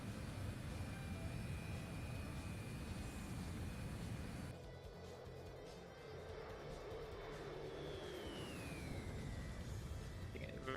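A faint, steady drone of an aircraft engine in a flight simulator game, the plane slowing on a high approach to land with gear down and flaps up, a continuous low hum with a soft rising whine near the end.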